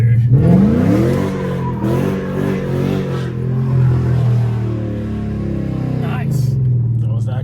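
A Chrysler 300 with the 5.7 Hemi V8 revs while sliding through a corner, the engine note rising and falling in a sustained, loud roar with a shift of pitch near the end.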